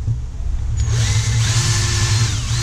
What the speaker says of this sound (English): What I'm going to do, I'm gonna drill a hole.